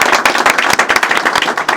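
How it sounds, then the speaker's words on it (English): A press-conference audience claps for the mayor of Indianapolis: loud, close, rapid clapping with sharp, uneven individual hits, heard alone without talk. "Can we give the mayor of Indianapolis a round of applause?"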